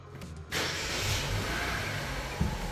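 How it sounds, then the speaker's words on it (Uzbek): A Chevrolet Gentra engine, with a history of overheating and weak pulling on methane, cranks and catches at close range after a short quiet moment, then settles into a steady, even idle. "Endi avtomobilimizni yurgizdiramiz."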